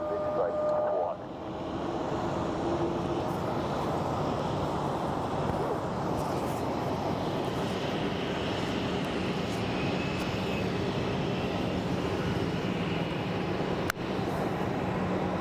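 An airliner taking off at Phoenix Sky Harbor Airport, a sustained, moderately loud jet engine roar that stays steady over the whole stretch, with a brief tonal sound at the start and a sharp click near the end.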